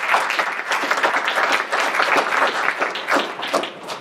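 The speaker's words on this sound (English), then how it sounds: "So one more round of applause for that." A conference audience gives a sustained round of applause, with dense clapping from many hands near and far that stays loud throughout and thins slightly at the end.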